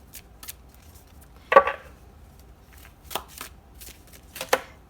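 Tarot cards handled and shuffled in the hands, a few soft, brief papery flicks and riffles separated by quiet pauses, close and fairly faint.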